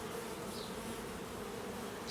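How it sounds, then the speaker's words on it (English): Honeybees from a newly installed package hum in a dense, steady buzz, close and continuous without pause, no voices present. "Oh, I see there's a bee doing a dance."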